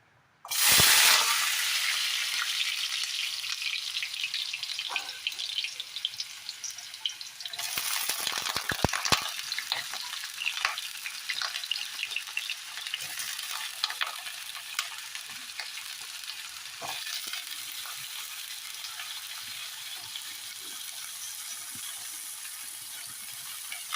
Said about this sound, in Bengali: আমি এবার ফার্স্টে আলু আর পেঁপেটাকে ভেজে নেব।